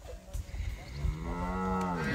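Cows moo in a corral at the foot of a mountain on a farm. A long, loud, nearby moo swells and holds, with faint rustling before it.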